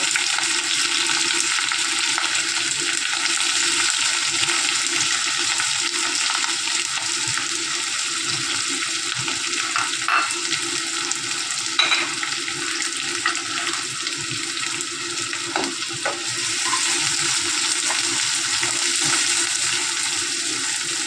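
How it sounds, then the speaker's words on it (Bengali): Chopped onion frying in a pan while browning produces a steady, dense sizzle up close, with occasional small clicks and stirring noises over the constant hiss. "পেঁয়াজটা একটু ব্রাউন ব্রাউন ভাজা হবে।"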